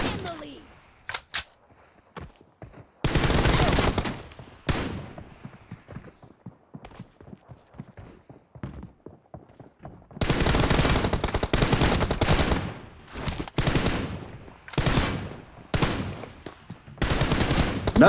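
Bursts of automatic gunfire from the mobile shooter game PUBG Mobile, long loud sustained volleys alternating with sparse single shots and quieter gaps, with a player talking over the action.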